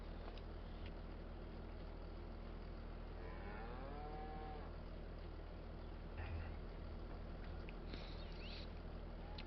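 Cattle on a beef ranch in Farming Simulator 25 give a single drawn-out moo over a steady low engine-like hum, with another faint animal call later and no talking.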